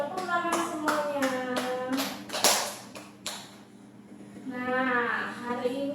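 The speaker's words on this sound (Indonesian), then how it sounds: "tepuk tangan semuanya" Primary school children in a classroom clap their hands in a quick burst of distinct claps, close by, mixed with children's voices that rise again afterward.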